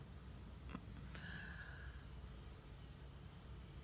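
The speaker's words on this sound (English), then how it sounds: "Welcome to my backyard and my cicadas." A steady, high-pitched drone of cicadas in a backyard fills the air continuously, with a couple of faint distant chirps near the start.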